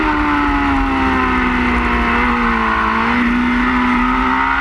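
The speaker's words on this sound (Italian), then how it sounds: "nel giro record che Fabrizio Perotti ha fatto a Varano e sentite il motore" A racing motorcycle engine screams at high revs during a record lap at the Varano circuit, loud and continuous, its pitch dipping slightly and rising again as the throttle is worked.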